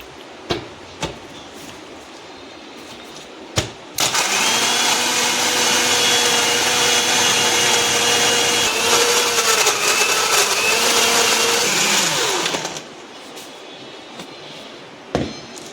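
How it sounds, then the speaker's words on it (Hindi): A few clicks and knocks, then a kitchen mixer grinder blending coffee with ice roars loudly and steadily for about eight seconds, its pitch shifting slightly before it winds down. "अब मिक्सर को चलाने जा रहे हैं"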